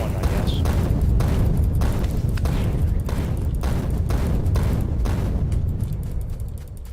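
Repeated grenade blasts in Factorio version 0.15, a dense run of booming explosions with sharp bursts over a continuous loud low rumble, closely spaced throughout and ending in a slight fade.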